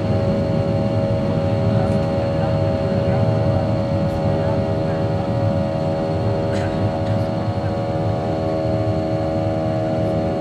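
US-Bangla Airlines airplane taxiing on a runway, a steady loud cabin engine drone with a constant hum throughout, and people talking faintly beneath it.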